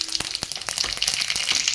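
Mustard seeds sizzle and pop in hot oil with cumin already added, a steady high hiss broken by sharp crackling pops at an irregular pace, close and fairly quiet, with no talking.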